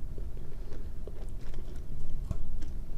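Close, moist crunching and chewing of Jelly Belly jelly beans in irregular bites, with some soft background noise.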